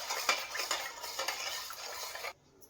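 A spoon stirs yeast powder into a mixture for homemade donut dough, scraping and clinking steadily against the bowl up close for a couple of seconds, then stopping abruptly into near silence.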